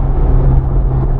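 A Mitsubishi Lancer Evolution X (CZ4A), 280 horsepower, accelerates hard at high speed, a loud continuous engine drone and road rumble heard from inside the cabin.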